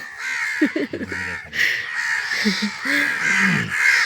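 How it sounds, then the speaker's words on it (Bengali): Several myna birds call close by in harsh, raspy bursts that repeat irregularly, while people talk quietly between the calls. "এগুলো পাখির নাম কি গো আমরা ছোটবেলায় বলতাম এগুলো গুশালিক"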